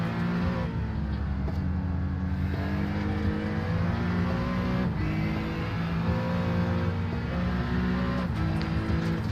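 Race car engines, including an Acura and a BMW, droning loudly and continuously at Tsukuba circuit, a steady harmonic whine with slight pitch shifts as cars run the track, no talking.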